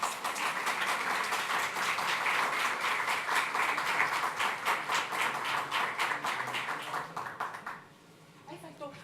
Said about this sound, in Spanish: Un aplauso, por favor, para nuestros panelistas.